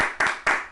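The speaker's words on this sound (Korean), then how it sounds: "네, 박수." Hands clapping three times at the start of a podcast recording, the sharp, close claps spaced evenly a quarter second apart, each followed by a short decaying ring, with no voices.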